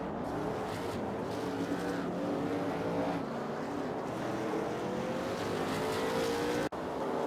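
Late model race cars roar around an oval track at a West Pro Series event, and engines rise and fall in overlapping passes while one car spins with some tire squeal. The sound is steady, loud and continuous, with no talking over it.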